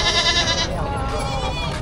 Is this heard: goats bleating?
yes